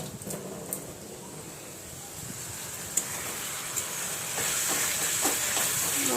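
Spice paste for a chicken curry fries in a kadai wok with a soft, steady sizzling hiss, a few light clinks and scrapes from stirring, and the frying growing louder toward the end; no voices.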